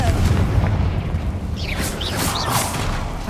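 A Confringo fire spell goes off in Hogwarts Legacy as a loud, rumbling boom, with crackling bursts and magical whooshes trailing after it and no talk.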